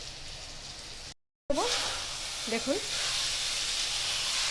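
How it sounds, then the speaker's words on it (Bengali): Kochur loti (taro stolons) fry in a kadai, giving a steady hiss and sizzle that swells after a short silent gap, while a voice speaks briefly over the frying. "চলুন একটু ভাজা ভাজা করে নিই।"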